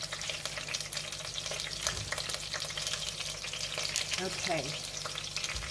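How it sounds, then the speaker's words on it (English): Anchovies patted dry sizzle and fry steadily in oil in a pan, a continuous close crackle with light stirring clatter and a brief spoken word. "you can hear the anchovies kind of sizzling"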